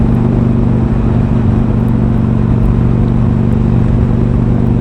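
A car engine being run in on freshly fitted piston rings idles steadily and loudly close up, a constant low, even drone with no change in revs and no talk.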